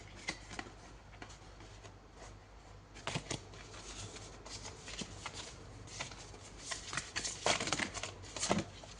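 Tarot cards being shuffled in a series of crisp riffling bursts with papery slaps, steady and close, growing busier toward the end, with no talk.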